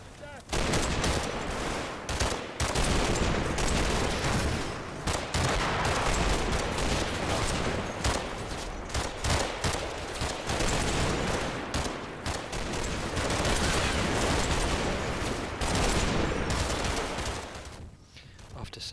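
Heavy gunfire in a war video game battle during an assault on a bridge house: dense, continuous volleys of rifle and machine-gun fire with blasts, loud and sustained throughout, fading briefly near the end.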